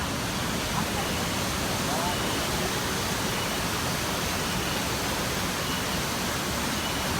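A waterfall roars as a steady, broadband rush of falling water, loud and unbroken from start to finish with no distinct voices over it.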